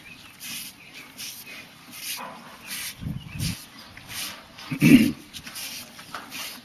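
Dogs at a farm whimper and give short yips and barks, scattered through the clip at close range, with a louder bark near the end.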